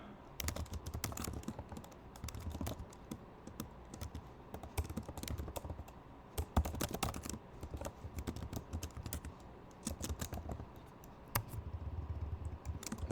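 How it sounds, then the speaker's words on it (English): Quiet typing on a computer keyboard comes in irregular bursts of rapid key clicks separated by short pauses, close and alone. "I'm even typing my tests."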